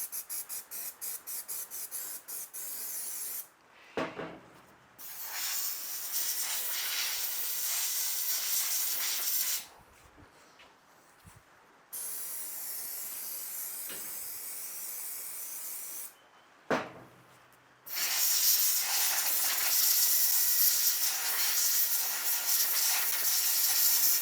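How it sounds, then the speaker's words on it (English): Contact cleaner sprays in long hissing bursts onto the ignition points of a stationary engine, close and loud, with three sustained blasts separated by short pauses and no talk. "So I'm thinking that what I'll do is just hit it with some contact cleaner."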